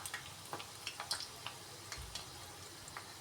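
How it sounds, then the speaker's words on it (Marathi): Bhaji fritters frying in hot oil, a faint, quiet crackle with sparse light ticks and small clinks as they are turned, close by. "बघा भजी पलटून घेतलं"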